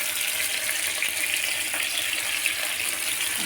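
Rohu fish fries lightly in a pan, giving a constant crackling sizzle at an even, fairly loud level for the whole stretch, with no voices.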